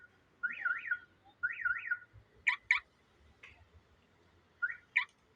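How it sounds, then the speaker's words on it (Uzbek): A car alarm system chirps as the car is locked and unlocked by remote: short electronic double chirps in separate bursts, moderately quiet, with no talk. "signalizatsiyalar ishlayapti"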